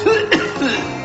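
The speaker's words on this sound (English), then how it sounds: "your cough sounds worse than ever" A cartoon bear cub coughs because of polluted, burned water, giving a few harsh, close cough bursts with throat-clearing sounds in between, loud and isolated over a quiet background.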